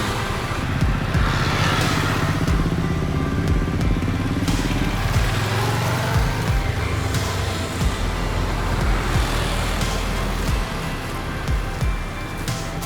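A motorcycle is ridden along Calicut Beach Road as the rider works the accelerator and clutch; the engine runs loud and close throughout, with rising and falling revs.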